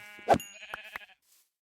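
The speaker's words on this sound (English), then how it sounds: "so we got two different color sheep here" Blocky Minecraft sheep give a single nasal bleat, followed by a few short clicky game sounds, bright and close, then quiet.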